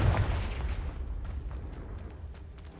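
A Confringo fire spell explodes in Hogwarts Legacy, opening with a strong booming blast that fades into a low rumbling tail, with no voices.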